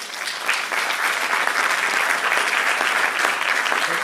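Steady audience applause fills the room at a family-planning anniversary round-table, loud and sustained with no gaps, a dense crowd of hands clapping close by.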